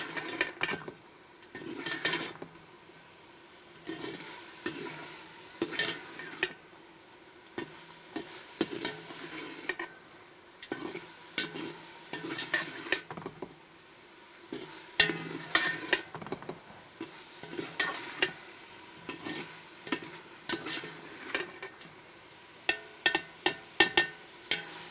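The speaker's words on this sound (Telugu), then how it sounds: "వంకాయలు బాగా కొంచెం మెత్తబడ్డేదాకా వేపి" Brinjal pieces fry in a pan for a brinjal dum biryani, a soft, steady sizzle broken by repeated clinks and scrapes of a spoon stirring against the metal, close and fairly quiet, with no talking.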